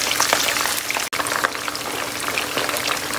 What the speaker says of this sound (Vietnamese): Cá đây cho nó sôi, chiên từ từ, lửa nhỏ, lửa medium nha mọi người.